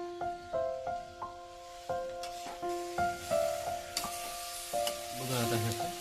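Spinach with fenugreek leaves and turmeric sautéing in a pan in a village kitchen, a soft steady sizzle under bright clinks of a utensil against the pan, with a voice speaking at the end.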